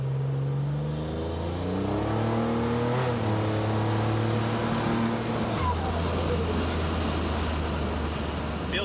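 A 1987 Buick Grand National accelerates hard in second gear, its engine note climbing steadily in pitch before a shift-like drop, loud and close from inside the car.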